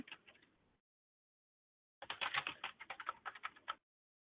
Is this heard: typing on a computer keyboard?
yes